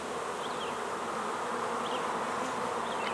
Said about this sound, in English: This hive has a huge population.